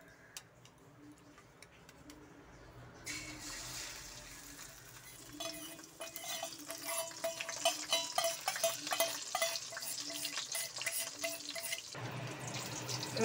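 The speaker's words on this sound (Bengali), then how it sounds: "এবার ডিমটাকে ভেজে নিচ্ছি।" An egg omelette frying in hot mustard oil in a wok, with a steady crackling sizzle that starts after a quiet opening and grows louder and denser with frequent spitting pops, and no talk over it.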